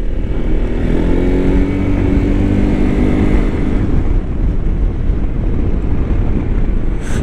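A Yamaha Tricity 300 three-wheeled scooter rides through small villages in Franconian Switzerland. Its engine drones steadily under loud, constant wind rush at the microphone.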